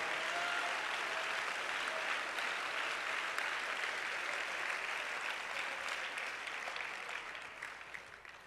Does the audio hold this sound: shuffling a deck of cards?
no